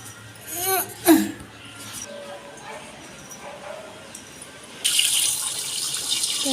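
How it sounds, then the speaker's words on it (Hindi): Water pours into a washing machine at home as a steady, close hiss that starts partway through and keeps running, after a few brief faint voice and animal-like sounds at the start. "तो यहाँ पे पानी भर ले रही हूँ मशीन में"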